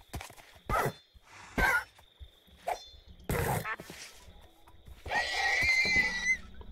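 A horse in the video game Minecraft gives several short snorts and neighs in uneven bursts, ending in a longer, louder whinny, close and clear against quiet.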